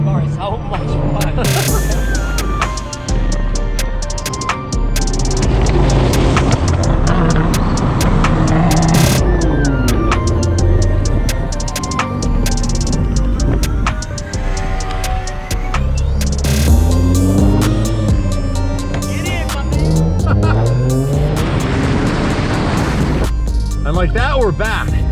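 A Nissan Skyline R34 GT-R engine rumbles and revs throughout, with throttle surges and pitch sweeps, while excited voices talk over it.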